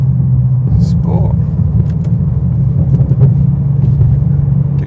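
Bentley Continental GT with an 8-speed ZF gearbox in sport manual mode rumbles steadily up close, with sharp exhaust pops and backfires crackling over the continuous engine drone.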